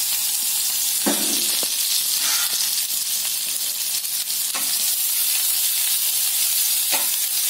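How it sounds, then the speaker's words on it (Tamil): Mustard seeds, onion and green chili fry in a tempering for pearl millet porridge, giving a continuous loud, hissing sizzle with occasional stirring scrapes and pops. "கடுகு நல்லா பொரிஞ்சதும் அது கூட வெங்காயமும் பச்சை மிளகாவும் சேர்த்துக்கலாம்."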